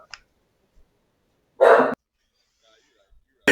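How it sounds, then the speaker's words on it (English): Dogs barking in the background, two short sharp barks spaced well apart with a faint yelp at the start, heard alone amid near silence. "Goddamn dogs."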